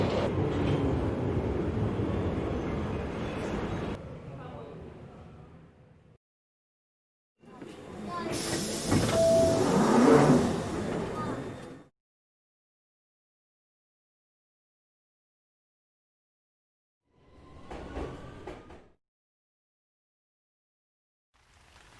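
Train passing in the video game Floor 13: Deep State, heard as rumbling, hissing bursts separated by long silences, with voices talking over parts of it.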